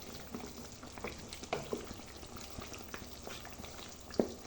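Chicken curry with potatoes, cumin powder just added, stirred in a pan: a soft, steady sizzle with occasional light scrapes and clicks, close and fairly quiet, with no talking.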